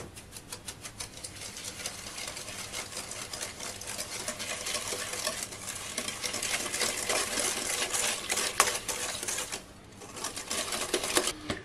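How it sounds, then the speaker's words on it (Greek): Three eggs and 300 grams of sugar are stirred briskly in a bowl, producing a fast, continuous clatter of utensil against the bowl, close and fairly loud, with a brief pause near the end before the stirring resumes. "Ανακατεύουμε τόσο μέχρι να γίνει λίγο άσπρο, να αλλάξει το χρώμα του αυγού"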